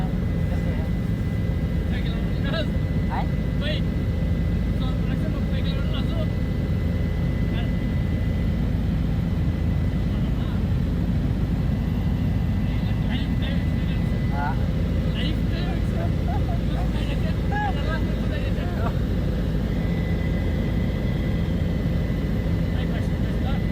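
Helicopter in flight on the Kedarnath pilgrimage route, heard from inside the cabin as a constant loud low engine and rotor drone throughout, with faint occasional voices.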